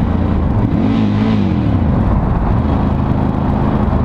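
Ducati Scrambler 1100 Special motorcycle exhaust roaring close and loud while revving, with a rising and falling engine pitch over continuous throaty rumble.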